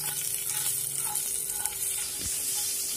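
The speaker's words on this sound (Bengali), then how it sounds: "তারপরে ওই তেলের মধ্যেই কালো জিরে এবং কাঁচা লঙ্কা ফোড়ন দিলাম" Black cumin seeds and green chilies are tempered in hot mustard oil left from frying pabda fish. A steady close sizzle crackles, with a few faint pops and clinks.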